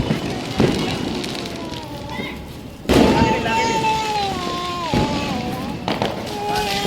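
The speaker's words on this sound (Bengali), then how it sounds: "এখন একটা বড় সেল ফাটাবে দাদা" A big firecracker shell bursts with one loud, sharp blast partway through a Kali Puja celebration, surrounded by crowd voices and ongoing festive noise.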